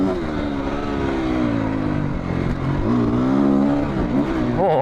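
Husqvarna FE350 dual sport motorcycle accelerating, a loud continuous engine drone rising and falling in pitch through gear changes, heard close and unbroken.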